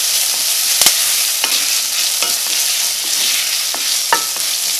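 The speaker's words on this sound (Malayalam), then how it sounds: "ഇതെല്ലാം കൂടിയിട്ടൊന്ന് വഴറ്റിയിട്ട് എടുക്കാം" Sliced onions sauté in oil in a pan for an ivy gourd curry, giving a loud, dense, continuous sizzle with occasional sharp clicks of a spoon stirring, close up and without talk.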